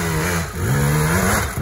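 A KTM motorcycle engine revs hard and close, its pitch climbing, dipping briefly, then rising again in a sustained loud roar with no talk over it.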